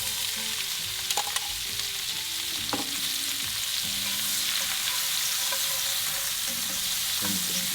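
Red onions sauté in a pan on a Kamado Joe grill, giving a steady, close sizzle with occasional scrapes and stirring knocks as they are pushed around. No one speaks.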